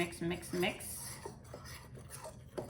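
Flour, sugar and pumpkin seeds for banana bread being stirred in a bowl, with a few scraping clinks of a utensil against the bowl and a voice talking briefly over it.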